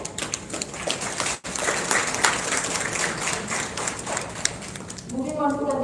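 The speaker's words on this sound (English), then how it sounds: "I would like to have a big round of applause for Ms." An audience at a film festival award ceremony claps for a jury member, dense applause filling the hall while a voice speaks over it and briefly cuts through near the end.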